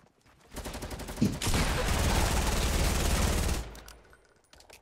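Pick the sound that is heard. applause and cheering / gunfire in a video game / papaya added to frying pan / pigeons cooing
gunfire in a video game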